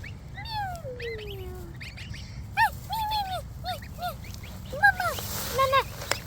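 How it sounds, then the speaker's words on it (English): High, thin peeping calls of baby geese repeat close by, several small voices overlapping in short chirps and rising whistles over a low background rumble. "I'm getting attacked by baby geese."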